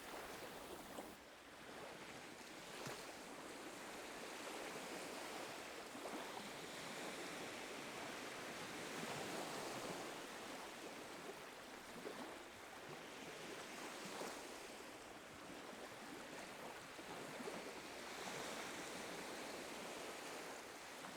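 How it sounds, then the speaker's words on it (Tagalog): Steady roar of sea waves washing onto the shore along the Vancouver Seawall, broad and continuous with gentle surges, wind noise brushing the microphone, no voices. "habang nakikinig sa hampas ng alon ng dagat"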